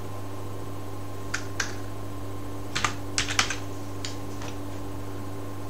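Sparse, light clicks of a computer keyboard being typed on in short bursts during a QGIS mapping session, a few isolated keystrokes then a quick cluster, set against a steady electrical hum.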